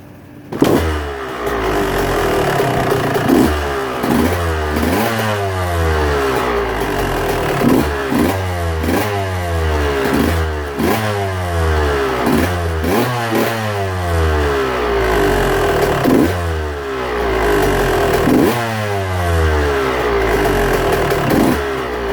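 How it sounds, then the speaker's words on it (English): A two-stroke engine revved repeatedly, loud and close, rising and falling in pitch in regular cycles with a metallic piston rattle through it. "when it starts making the sound that I call piston rattle"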